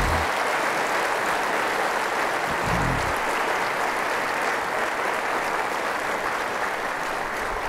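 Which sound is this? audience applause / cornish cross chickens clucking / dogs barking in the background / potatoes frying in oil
audience applause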